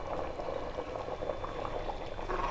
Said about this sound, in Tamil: குழம்பு நல்லா 5 நிமிஷமாக நல்லா கொதிச்சு ரெடி ஆயிடுச்சுங்க